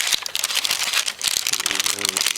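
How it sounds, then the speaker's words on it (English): A Taco Bell biscuit taco wrapper is unwrapped up close with a run of crisp, irregular paper crinkles, and a voice briefly joins near the end. "here's the wrapper. Let's unwrap this"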